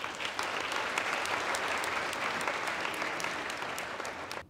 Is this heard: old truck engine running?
no